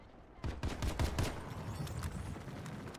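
Gunfire in the sci-fi shooter Planetside 2 during a fight against armored vehicles, a quick cluster of shots early on followed by ongoing rumbling battle noise, fairly loud throughout.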